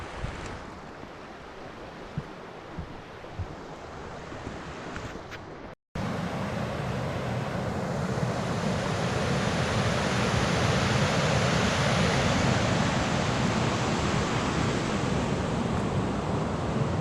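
Small waterfall in Hardcastle Crags woodland, a steady broadband rush of falling water that cuts briefly to silence and then returns louder and fuller, continuous with no talking.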